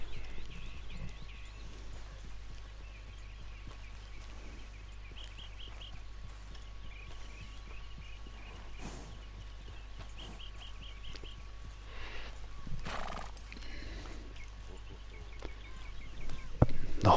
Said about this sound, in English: The horse is hungry,